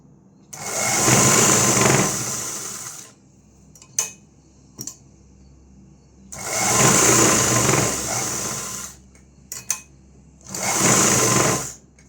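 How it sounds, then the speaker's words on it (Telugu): An electric sewing machine stitches the inner seam of a blouse lining in three loud, close bursts of rapid whirring, separated by short pauses with small clicks and handling sounds. "చూసుకుంటూ లోపల వైపు కుట్టు అనేది ఇలా వేస్తున్నాను."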